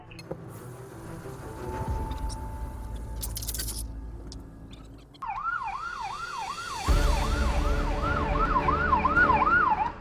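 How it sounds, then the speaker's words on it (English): An emergency vehicle's siren comes in partway through, wailing in a fast repeating up-and-down pattern that grows louder and closer over road noise and a low traffic rumble. "You must stop when an emergency vehicle approaches, and with lights and sirens on."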